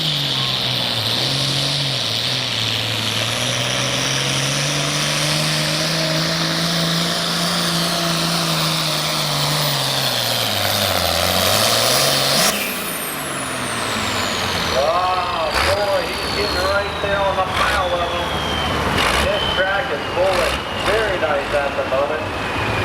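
An International pulling tractor roars through a full pull at a truck and tractor pull, its loud engine note rising and sagging over a sustained drone, then giving way to crowd noise and a voice talking over the arena.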